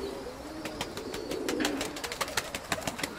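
A pigeon coos close by, a male recently paired with a hen, giving a low, throaty coo with a run of rapid rhythmic pulses, while faint bird sounds are heard around it.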